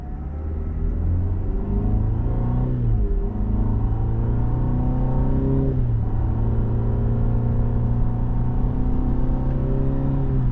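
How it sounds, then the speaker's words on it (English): A 2023 Cadillac CT5 Luxury AWD accelerating with a low engine rumble and artificially piped-in exhaust noise, pitch climbing and dropping as it revs steadily close by. "they try to pump in a little exhaust noise to make it sound cool"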